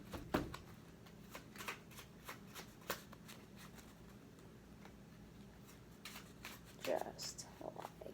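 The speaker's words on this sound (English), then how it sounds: "and then just shuffle it up, get it all lost" A deck of playing cards being shuffled by hand, with soft repeated riffling and patter strokes close by, faint and steady with brief pauses, plus a louder flurry near the end.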